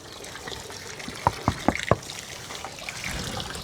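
Water overflowing from a truck's full tank, a faint trickling splash with a few quick gurgling spurts in the middle over quiet background.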